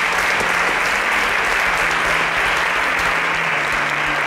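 A studio audience bursts into loud, dense applause at a televised student competition, steady clapping holding at full strength from start to finish.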